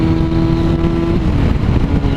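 Yamaha Fazer FZ6 motorcycle engine on a long road-rally ride, a steady loud droning hum with a held tone that shifts partway through, mixed with constant wind roar and no talk.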